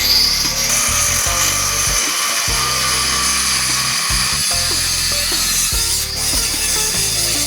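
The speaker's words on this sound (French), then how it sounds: "du coup je vais utiliser un disque pour la pierre là." Angle grinder fitted with a stone cutting disc slicing through a metal tube while building a mini buggy chassis: a loud, continuous whining grind that briefly drops out twice as the cut is paused.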